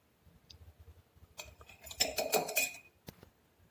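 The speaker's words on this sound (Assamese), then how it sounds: "বটলত এনেকৈ অলপ অলপকৈ ভৰাই যাম" Lemon pickle is spooned into a bottle in small scoops, with light clinks of a metal spoon against glass and scraping, building to a cluster of clattering strikes and a final sharp tap.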